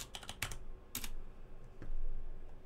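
Quick bursts of clicky keystrokes on a computer keyboard during a livestream, a few rapid taps, a pause, then more scattered presses, close and fairly quiet with no talking.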